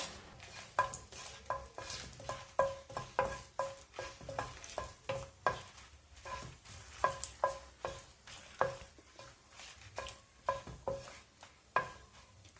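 Dried red chillies frying in hot coconut oil in a pan, with a soft continuous sizzle under repeated rhythmic stirring scrapes and light utensil taps, close and fairly quiet.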